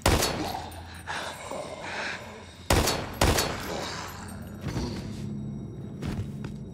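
Handgun shots in the survival horror game Daymare 1998, several sharp loud reports spaced irregularly over rumbling game ambience, with two especially strong bangs close together near the middle.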